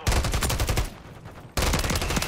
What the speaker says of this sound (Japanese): その奥からも撃たれるのね